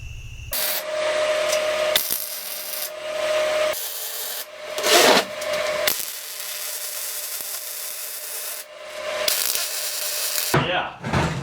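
Sand pours and rushes into the hollow steel legs of an anvil stand, giving a continuous gritty hiss and rasp that swells and fades in bursts, with a few knocks and shifts along the way.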